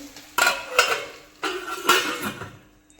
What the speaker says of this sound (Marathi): आता यावरती मी तीन ते चार मिनटासाठी झाकण ठेवून घेणार आहे